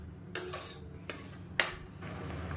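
A spoon knocks against a pot while javvarisi payasam of tur dal, sago and jaggery is stirred, giving three sharp clinks spaced apart over a low steady hum.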